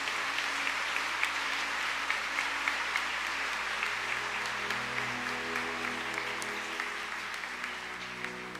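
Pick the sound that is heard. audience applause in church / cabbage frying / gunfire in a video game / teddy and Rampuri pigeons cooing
audience applause in church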